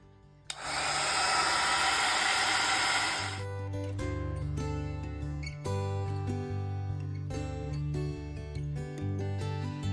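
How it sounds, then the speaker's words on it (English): A heat gun blows on embossing powder during a craft project, giving a short burst of loud, steady airy whoosh that cuts off after about three seconds, with background music playing throughout. "Put my heat gun to it and see how these turn out with that embossing on there."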